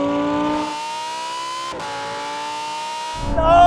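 A Lamborghini Huracan Performante and a Chinese SUV accelerate side by side in a drag race, a loud engine whine climbing steadily with a brief gear-shift dip, then a fresh surge of revs at the end.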